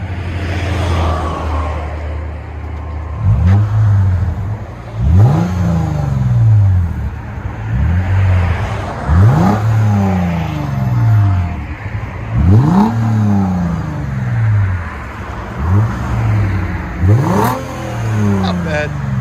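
A car with a modified exhaust is revved hard about eight times in a steady rhythm, each rev rising to a deep, loud roar close by before falling back to idle.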